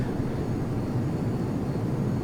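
An F-22 Raptor fighter jet flies in the Prepar3D flight simulator, its engines giving a steady, close, low rumbling drone that holds level throughout.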